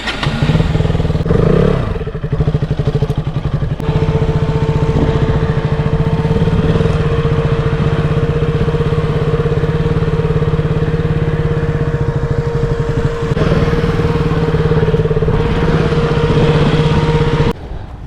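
A motorcycle engine runs steadily with a strong hum, revving as the bike is turned around on a trip toward Pondicherry, loud and close throughout with brief dips near the end.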